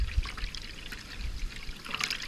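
Water poured into a cooking pan along with broth and white vinegar for a fish stew of mudfish and catfish, a close, uneven trickling splash that ripples and sputters, fuller near the end.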